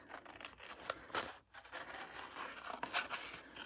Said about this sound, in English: So now I'm going to go ahead and fussy cut